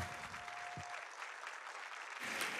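An audience applauds at the AGDQ 2020 speedrun marathon after a Mega Man X4 run, a moderate, continuous wash of clapping that swells again near the end.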